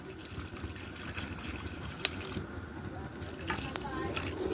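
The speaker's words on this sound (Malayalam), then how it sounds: "വിനീഗർ ചേർത്ത് കൊടുക്കാം." Vinegar poured into a homemade Indian gooseberry pickle, a soft steady liquid trickle running under continuous low background noise for several seconds.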